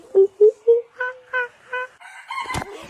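Chickens call loudly and close by, three short clucks in quick succession, then a run of longer, more drawn-out calls rising into a crow-like cry at the end, with no talking.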